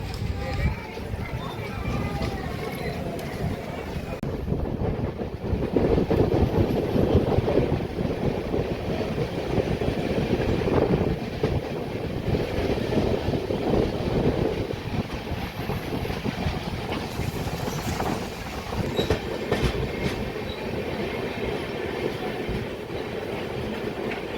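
The Satavahana Superfast Express rolls out of Dornakal Junction with a steady rumble of wheels and carriage noise heard from inside, continuous and moderately loud, with faint background voices.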